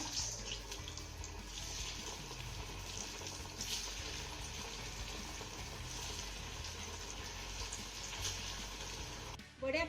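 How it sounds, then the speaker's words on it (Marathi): Potato and colocasia vadi slices frying in hot oil in a kadhai, a dense continuous bubbling sizzle that holds steady throughout and stays close and fairly loud, without talk. "आपलं कढईमध्ये तेल देखील चांगलं गरम झालेलं आहे आता यामध्ये आपल्याला वड्या सोडायच्या"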